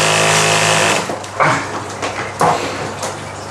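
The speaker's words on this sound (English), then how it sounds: "There is a reason why I wanted this baby pressure washer, which is really quite an awesome performance considering it's just running out of a barrel" A cheap 12V mini pressure washer pump draws water from a barrel, giving a loud, steady motor whine with a harmonic hum throughout and a few sharp bursts of spray or clatter near the start and middle.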